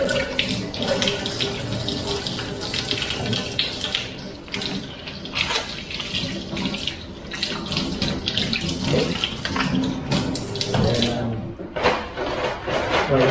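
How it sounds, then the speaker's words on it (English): Water runs from a tap into a sink during handwashing in a clinical setting, a steady close splashing stream broken by irregular sputters and shifts as hands move under it. "we need to wash the hands."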